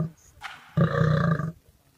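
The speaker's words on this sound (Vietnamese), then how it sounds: "Tiếng gầm vang dội" A lion gives one loud, close roar lasting under a second during a fight between lions, preceded by a brief rough snarl and followed by quiet.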